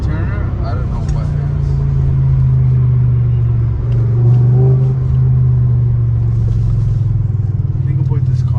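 A straight-piped BMW E60 M5 V10 engine accelerates, a loud, deep and sustained rumble that holds steady and swells slightly midway, close and dominant throughout.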